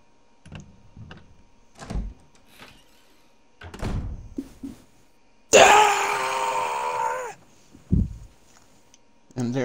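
During a Resident Evil remake playthrough, a player lets out a sudden loud scream that lasts about two seconds, breaking a quiet stretch of scattered voices, groans and door thunks.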